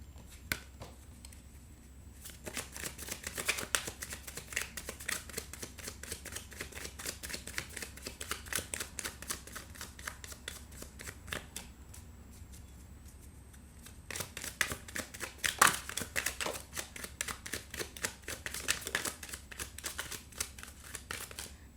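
Oracle cards shuffled by hand in rapid, crisp riffling bursts, close and moderately quiet, pausing briefly before another long run of quick flicks.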